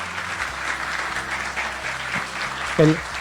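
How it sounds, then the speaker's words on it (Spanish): Audience applause for the labor relations team at a workplace session on Chile's Ley Karin, held by Caja Los Andes; a steady, even wash of clapping runs throughout, with a brief voice near the end. "un aplauso al equipo de Relaciones Laborales que organiza esto"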